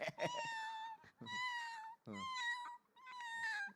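A person imitates a cat, giving four drawn-out meows in a row, each wavering and whiny, close and clear with brief pauses between.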